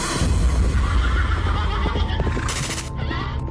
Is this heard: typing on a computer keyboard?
no